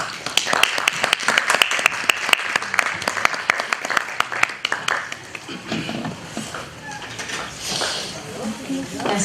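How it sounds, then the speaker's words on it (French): Audience applause at a university summit ceremony, dense close clapping that swells and then thins out, with voices and a speaker's talk rising as it fades. "Sous vos applaudissements, mesdames et messieurs"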